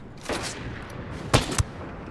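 Gunfire in the video game Ghost Recon Breakpoint: a muffled shot, then two close, sharp reports in quick succession over a low ambient background.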